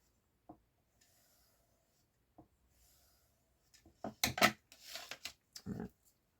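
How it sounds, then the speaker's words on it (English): Quiet room with a few isolated taps, then a burst of scraping and snipping as scissors are drawn along a ruler on paper, close by. "The scissors along the ruler."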